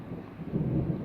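Low rumbling thunder from a small summer thunderstorm in Red Deer, Alberta, a steady soft roll that swells slightly in the second half, heard outdoors with no talking.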